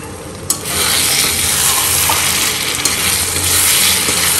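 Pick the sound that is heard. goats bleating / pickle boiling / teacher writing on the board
pickle boiling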